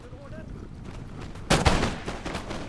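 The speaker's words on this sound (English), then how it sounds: "Up in the woods there, I have some line infantry going to be firing." Line infantry musket volleys crack out during a game battle in winter, a sharp loud burst at mid-clip with a few ragged follow-up shots fading under background battle noise.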